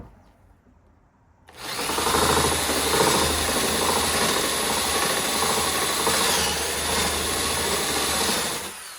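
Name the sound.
drilling cabinet wood with a Forstner bit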